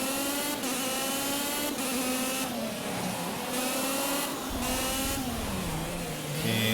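A race car engine in Project CARS revs continuously, its pitch sweeping up and down as the throttle is feathered through corners and gears shift, a loud steady drone with no talk.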